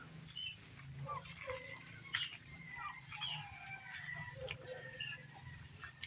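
A soaked broodcock rooster and other chickens in a muddy, rain-wet yard give scattered faint clucks and calls amid steady outdoor ambience with a constant high hiss, no clear crow standing out.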